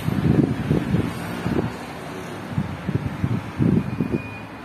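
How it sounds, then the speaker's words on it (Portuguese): Strong wind on a cloudy day outdoors, a low, gusty rumble that swells and fades in bursts against the microphone, with no one talking. "E tá ventando muito. Tá o maior ventão."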